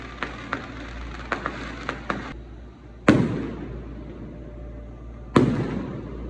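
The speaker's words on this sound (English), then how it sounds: "I don't know what these fireworks are for, but they're really cool." Fireworks go off over a resort in Cabo San Lucas. A quick series of sharp, distant pops is followed by two louder booming bursts a couple of seconds apart, each trailing off in a crackling rumble.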